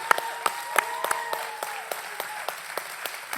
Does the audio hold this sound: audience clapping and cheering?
yes